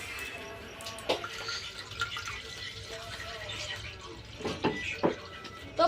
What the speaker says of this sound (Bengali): এখন দুধটা আমি কেটে ছেঁকে নিচ্ছি